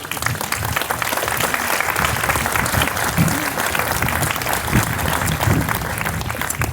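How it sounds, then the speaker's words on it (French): A crowd claps steadily and loudly throughout, a dense wash of applause with no breaks. "Si on pouvait l'applaudir, il est là."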